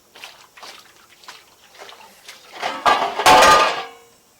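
Dishes, pots and utensils are washed, with light clinks and trickling water building into a louder burst of splashing and clattering near the end.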